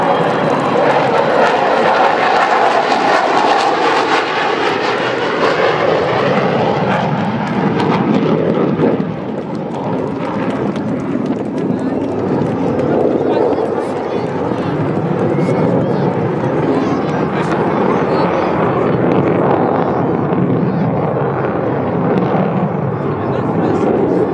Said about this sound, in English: This is the final pass, the final display here at Rhyl by Vulcan XH558.